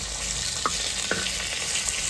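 Chopped tomatoes and onions sizzle steadily in a hot clay pot over a wood-fired stove, with a couple of soft scraping stirs breaking through the constant crackle.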